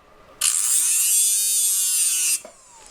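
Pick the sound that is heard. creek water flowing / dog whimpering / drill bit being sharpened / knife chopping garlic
drill bit being sharpened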